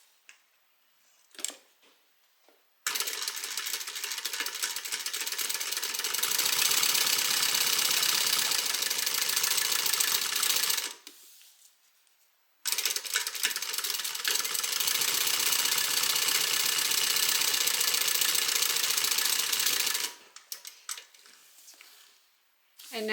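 A domestic sewing machine top stitching fabric evening bag pieces, running in two long steady bursts of about eight seconds each, with brief quiet gaps and small handling noises between runs.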